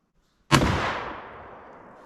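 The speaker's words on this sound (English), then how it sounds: "Harrington and Richardson single shot." A single loud, sharp blast from a Harrington and Richardson single-shot shotgun firing a Remington shell, followed by a booming tail that fades over about a second and a half outdoors.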